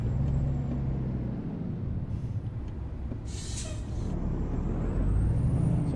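Truck braking in American Truck Simulator, with a low, steady engine rumble and a short hissing burst of air brake in the middle.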